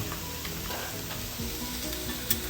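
Beef and mushrooms brown together in the same pan with a steady sizzle and hiss, plus occasional stirring scrapes and a sharp clack near the end.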